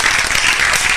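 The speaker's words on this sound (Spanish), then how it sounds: "Aplauso para el músico." Brief, loud burst of audience applause for a musician at a live show, dense clapping from a full crowd filling the whole moment.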